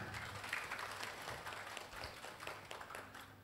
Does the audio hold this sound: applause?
yes